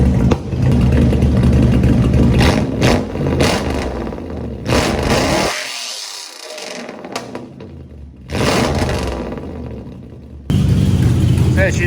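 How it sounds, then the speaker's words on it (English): A Lexus SC400 drift car with a 1UZ-FE V8 engine revs hard in bursts, with loud blips separated by drops to near silence, while people talk close by. "I'll give it some revs, see if we get some fire."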